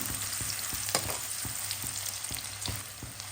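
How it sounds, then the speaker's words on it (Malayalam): Onion whites are stir-fried in a pan for fried rice, giving a constant sizzle. Regular scraping strokes of stirring cut through it roughly every third of a second, close and steady, with no talk. "എന്നിട്ട് നന്നായിട്ടൊന്ന് ഇളക്കി ഒന്ന് മൂപ്പിച്ചെടുക്കാം"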